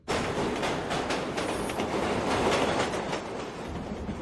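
A train rolls along the rails with a steady, dense rumble and faint rhythmic clickety-clack from the wheels, heard close from inside a carriage with no talking.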